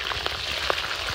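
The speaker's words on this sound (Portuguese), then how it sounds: "Como tem bastante óleo e nossa panela grande, eu posso fazer uma fritada só de todo mundo junto." Piranha fish frying in plenty of oil in a large iron pan by a riverside, a close steady sizzle with small crackles and pops, no voices.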